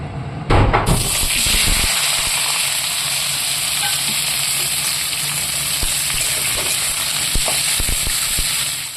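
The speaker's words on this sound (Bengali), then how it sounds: "পেঁয়াজটা ভাজা হয়ে গেছে" Steady loud sizzling of onions frying in hot oil in a pan, continuous crackle after a brief clatter at the start, with occasional stirring clicks.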